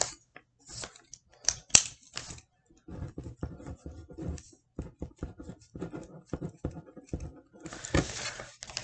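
A pen scratches across a paper cootie catcher flap in short, uneven strokes and taps, quiet and close, with brief pauses between marks.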